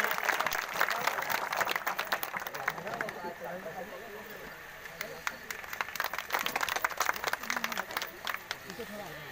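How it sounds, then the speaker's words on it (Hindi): A crowd applauds at a statue unveiling ceremony for Rani Avantibai Lodhi, a sustained patter of many hands clapping that dips briefly midway then swells again, with voices mixed underneath. "एक बार जोरदार तालियां इनके लिए बजनी चाहिए"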